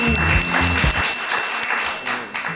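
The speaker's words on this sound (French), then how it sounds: "vos applaudissements" A podcast audience applauds after a point in a singing quiz, a short burst of crowd clapping, with a voice briefly heard over the start.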